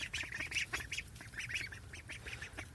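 Backyard ducks quack in a busy, overlapping chorus of short nasal calls, close by and steady throughout, with a faint farmyard background.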